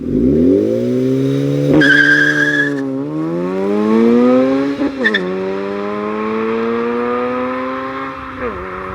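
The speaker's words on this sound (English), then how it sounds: "8th gen Civic rice box." An 8th gen Honda Civic with a raspy aftermarket exhaust drones loudly with a buzzy engine tone that climbs and dips, with a couple of quick throttle blips along the way.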